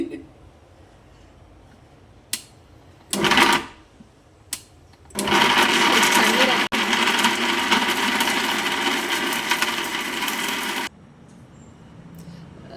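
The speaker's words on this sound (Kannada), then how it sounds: "ಮಿಕ್ಸಿ ಹಾಕಿದ್ದೀನಿ" A kitchen mixer grinder (mixie) grinding roasted masala whirs loudly and steadily for about six seconds after a few short clatters, then stops abruptly.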